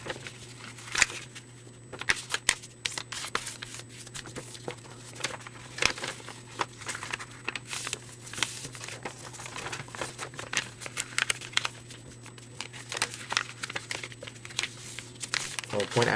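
A standard sheet of paper is folded and bent by hand, giving repeated crinkles and soft crackles at close range while someone talks throughout.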